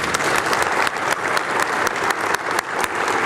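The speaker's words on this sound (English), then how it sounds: "please join with me in a round of applause for the service provided by our friends" Steady applause from a room full of people at a luncheon, dense even clapping that holds loud throughout with no voices over it.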